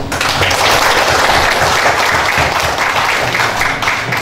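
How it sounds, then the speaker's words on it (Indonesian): Audience applause for the speakers at an anniversary gathering of an Indonesian truck entrepreneurs' association in Dumai, steady and dense clapping filling the whole moment at close range. "kita kasih aplaus kepada narasumber"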